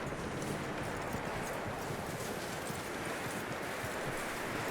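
Horse hooves clip-clopping in Red Dead Redemption 2: a steady rapid patter of hoofbeats under a constant wash of wind and outdoor ambience, even in loudness throughout, with no voices.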